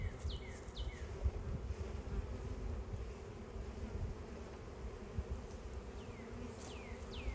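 Honey bees buzz steadily around a pair of hives after a swarm, a low continuous drone with wind noise over it and a few brief higher chirps from other insects or birds.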